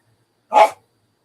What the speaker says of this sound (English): See, there's the dog.